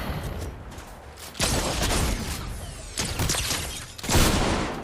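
Shotgun blasts in Fortnite, several loud booming shots spaced a second or so apart, each with a sharp attack and a short rumbling tail, over faint game ambience.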